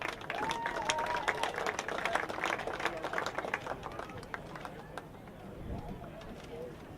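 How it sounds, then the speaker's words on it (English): Audience applause at a boys' lacrosse banquet, a crowd clapping steadily at moderate distance, with a voice speaking over it before the clapping tapers off toward the end. "give a nice round of applause for Charlie Martin"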